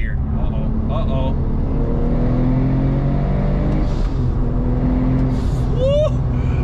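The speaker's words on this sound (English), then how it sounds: "I'm gonna go on the highway now and really see what high boost does in third and fourth gear." A manual 800HP Porsche 997 Turbo accelerates on a highway, heard from inside as a loud, steady engine drone with rising tone and turbo whistle, with brief voices over the top.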